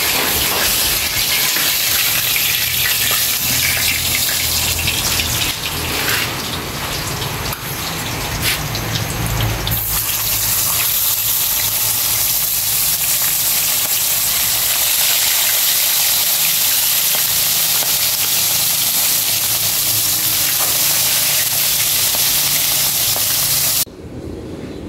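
Heavy rain pours steadily outside a home in the Philippines, a loud constant hiss with drumming on a roof, shifting slightly in tone partway through and continuing nearly to the end.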